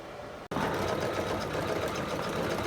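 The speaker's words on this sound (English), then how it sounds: "I'm just stitching out my heart border in satin. My machine is working at 800 stitches per minute." Embroidery sewing machine stitching a satin heart border in red thread at 800 stitches per minute, a steady loud mechanical whir and rapid needle chatter starting abruptly after a brief pause and running continuously.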